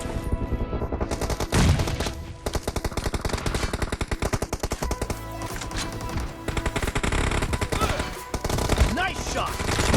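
Rapid bursts of gunfire from a mobile shooter game, dense and loud with overlapping shots and automatic fire throughout.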